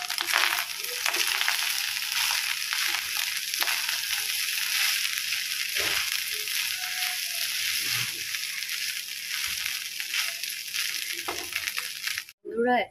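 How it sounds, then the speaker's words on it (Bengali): Leftover rice frying with egg and onion in oil, a continuous close hiss and crackle broken by scraping stirs and occasional clinks of a utensil against the pan, ending abruptly. "এই দেখো আমি ভাত ভাজাটা করে নিচ্ছি"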